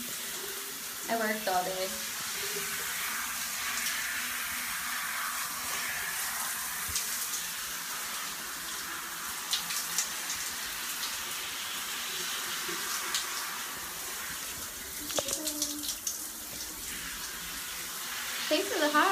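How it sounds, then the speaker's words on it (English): A running shower gives a continuous broadband hiss of falling water that lasts throughout, with a person talking intermittently close by over the spray. "I'm in the shower, you guys."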